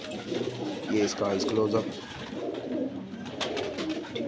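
Cheena pigeon cooing in low rounded calls close by, heard beneath someone speaking.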